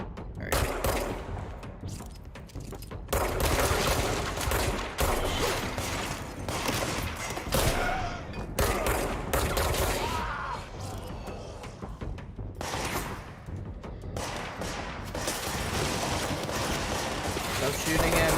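Repeated gunfire from the video game Alan Wake's American Nightmare, dense bursts of shots crackling steadily through the stretch, with someone talking over the action.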